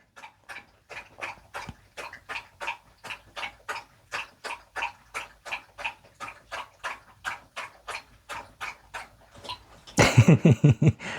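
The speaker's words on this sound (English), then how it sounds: "let's meditate while my dog drinks water" A dog laps water in a quick, steady rhythm of wet slurps, close and clear with no talk, before a louder burst of rattling noise at the end.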